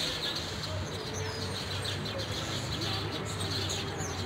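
Starlings with fledglings call in agitation at a predator, sending scattered high chirps and squawks through steady outdoor noise and a low rumble, faint to moderate and somewhat distant.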